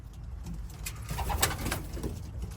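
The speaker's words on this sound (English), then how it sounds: "We're here in the Pigeon Loft" Racing pigeons coo inside a pigeon loft: soft, throaty calls repeat close by, with a few sharper flutters and bright clicks breaking through a low, steady hum.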